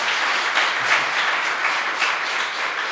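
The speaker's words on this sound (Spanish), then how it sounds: "Ahora dale un aplauso fuerte a Dios." A church congregation applauding together during a service, dense continuous clapping that stays loud and even throughout, without speech.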